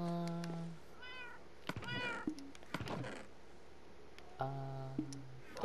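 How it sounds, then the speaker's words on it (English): Several cats in the Minecraft video game meow repeatedly, short tonal calls spaced through the clip, fairly clear against a quiet background with a few soft clicks. "the cats like me for some reason. Oh, what nice little kitties."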